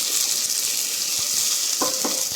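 Vegetables and little millet sauté in a new pressure cooker with a steady close sizzle, while a wooden spoon stirs with a few soft knocks near the end.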